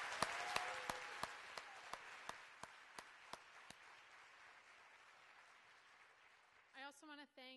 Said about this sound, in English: I'd like her to stand for just a moment and to give her a round of applause.